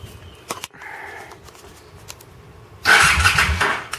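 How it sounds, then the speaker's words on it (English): A motorcycle fitted with a Boss MC400 amplified speaker system starts up after a few faint clicks and a short whirring, its engine catching loudly and running rough and close near the end. "Alright, so I'm going to start the bike."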